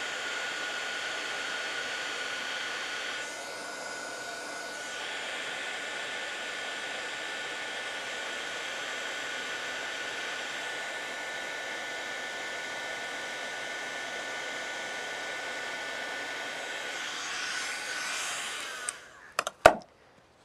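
A heat tool melting embossing powder on vellum blows a steady, loud, hair-dryer-like rush for about eighteen seconds, then cuts off, followed by a few sharp clicks and knocks.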